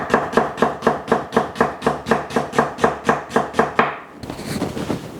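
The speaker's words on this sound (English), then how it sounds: "That's what I mean by the thinly sliced onions. Really, really fine." A knife thinly slicing onion very fine for kingfish ceviche, a fast, even run of crisp close chops on a board, about fifteen in a row, then a brief pause and a soft rustle.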